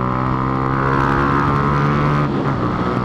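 Motorcycle engine with its air filter removed and the stock exhaust fitted, revving steadily at a high idle with a strong, continuous drone that stays loud and even throughout, without any talk over it.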